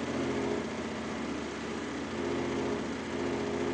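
A car engine runs steadily at a constant speed, a droning hum with a slight pulsing texture, heard up close without any voices.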